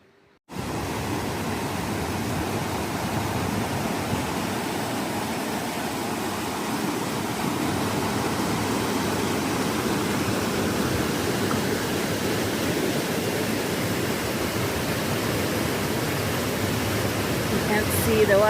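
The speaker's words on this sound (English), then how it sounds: "Can't see the waterfall from here, but it's pretty far." A distant waterfall on the Western States Trail in the Sierra gives off a steady, even roar of rushing water that continues unbroken for the whole stretch, heard from far off.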